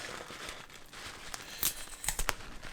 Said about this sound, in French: Vous enlevez le scotch.